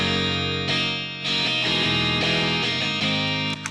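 Loud, fuzzy overdriven electric guitar plays sustained chords through a distortion pedal loop, with a brief pause and then a run of gritty strums, no voices.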